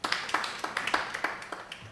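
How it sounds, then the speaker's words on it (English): An audience at a youth parliament sitting in Luwero, Uganda, claps steadily, a dense patter of many hands with small peaks, fairly faint and distant, with no talk over it. "Please, a big round of applause."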